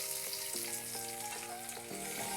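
Small shallots sizzle steadily in a pan while cooking alongside chicken liver, a continuous bright frying hiss with a few faint stirring knocks, close and even throughout.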